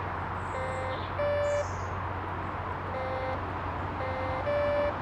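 A metal detector sweeping a bottle dump gives a series of short tonal beeps, some higher-pitched than others, spaced irregularly over steady low background hum and chirping birds, with no talking.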